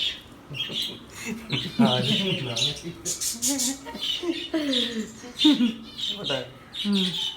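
Birds chirp and squawk in short bursts, high and bright, under a person talking nearby.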